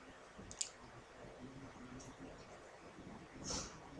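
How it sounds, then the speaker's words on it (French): Computer mouse clicks while using Caneco BT software: two faint, sharp clicks, one near the start and one near the end, over quiet room tone with soft speech. "Et on clique sur OK."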